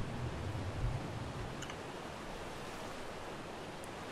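A waterfall in the video game ARK gives a steady, unbroken rushing wash of water that holds an even level throughout, with no voices over it.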